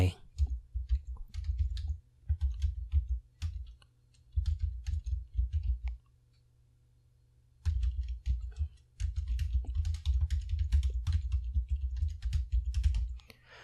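Brisk typing on a computer keyboard while entering notes in the Xmind mind-mapping program: two long runs of close, rapid key clicks separated by a short silent pause.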